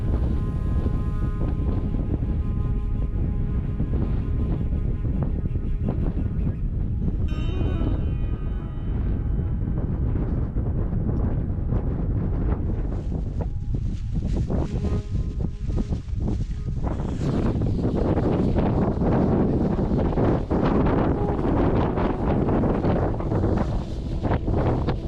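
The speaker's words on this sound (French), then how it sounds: "Comme hier soir, le vent souffle fort" Strong mountain wind roaring and gusting against the microphone near a col above the Fouès valley, heavy and continuous, with gusts swelling toward the end.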